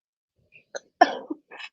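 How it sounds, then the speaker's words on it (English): A single sharp cough, close and abrupt, preceded by a small throat sound and followed by a brief trailing breath. "Hold on, I gotta cough really fast."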